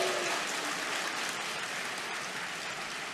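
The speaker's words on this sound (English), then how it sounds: "it's booing and applauding." A crowd at a film industry awards event applauds in a dense, steady wash of clapping that stays fairly loud throughout, with no distinct booing standing out.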